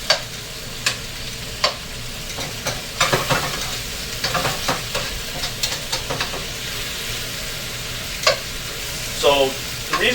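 Ground beef sizzles loudly in a pan while a utensil stirs and scrapes it in repeated sharp strokes, with a steady frying hiss throughout.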